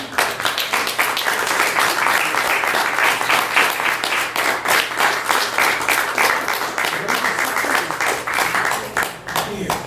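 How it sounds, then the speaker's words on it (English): An audience applauds musicians after a reed quintet performance, a dense, sustained burst of clapping that holds steady for about ten seconds with no one speaking. "let's give them a big round of applause"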